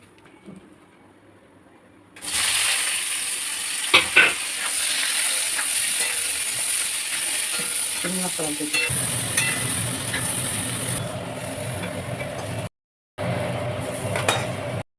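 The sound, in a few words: green jackfruit frying in oil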